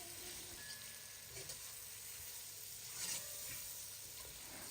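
Carrot cut into long strips sizzles with onion in a hot pan for a flour-fried meat dish, a steady soft hiss and crackle with no voices.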